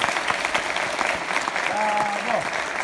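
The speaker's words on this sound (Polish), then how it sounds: "Brawa dla nich." Audience applause for a church choir at a Christian prayer concert, dense steady clapping filling the hall throughout, with a voice speaking briefly over it.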